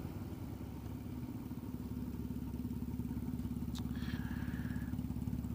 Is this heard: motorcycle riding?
yes